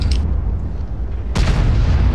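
A tank cannon fires in a tank battle video game, one loud booming blast that hits abruptly partway through and rolls on over a low, rumbling background.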